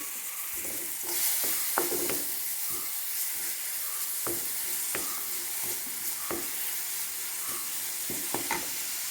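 Chopped onion sautéing in a little oil in a pan, a steady close sizzle with scattered sharp crackles and spoon scrapes throughout, no voices.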